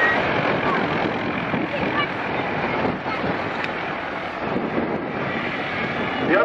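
Engine of a Sea Hurricane fighter plane after landing on an airfield, a steady broad roar at close range mixed with wind noise, continuous and loud throughout with no talking.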